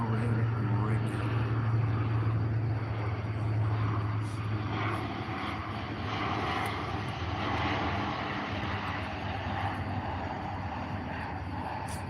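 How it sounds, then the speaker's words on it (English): A US Air Force C-130 turboprop transport flies overhead, its low propeller drone steady and loud at first, then easing slightly as it passes, with people talking beneath it. "C-130 is flying overhead right now"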